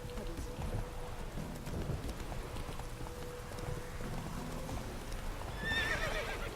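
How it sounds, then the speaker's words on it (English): A horse in The Witcher 3 game clip-clops steadily at close range, then lets out a clear neigh near the end, with faint rain-like ambience beneath. "My god, horse."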